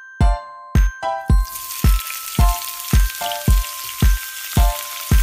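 Vegetables frying in a pan for vegetable pulao, with about ten rhythmic metallic clanks of a spoon against the pan ringing over a steady sizzle, close and fairly loud.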